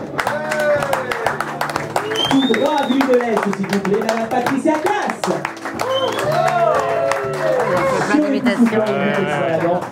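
Clapping from a French TV studio audience rolls on continuously while a host talks over it, announcing the next guest.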